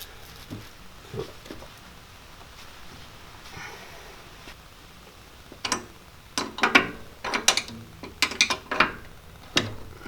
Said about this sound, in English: I use the other spanner wrench and you turn it clockwise, and it should lower it